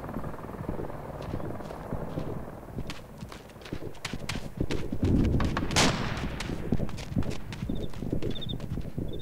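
Gunfire and explosions from the military video game Arma 2, with scattered shots and impacts over a busy battlefield din, one louder blast mid-way, and faint radio-style voices in the mix.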